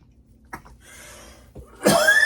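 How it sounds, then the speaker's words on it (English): A few faint breaths, then a sharp, loud cough near the end, close by. "You're making me cough."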